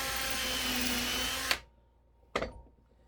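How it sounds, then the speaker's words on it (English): A power drill bores a hinge hole through a piece of wood, finishing from the reverse side: a steady loud whir for about a second and a half that stops abruptly, then one short burst of drilling. "finish drilling it from this side"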